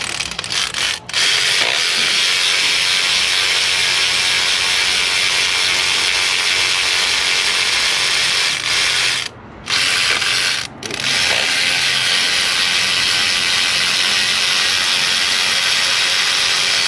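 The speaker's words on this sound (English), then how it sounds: "get out the ratchet" Ratchet wrench on the diesel injectors of a 2005 LLY Duramax engine, loud continuous rapid clicking of the pawl with a few brief pauses, heard close up.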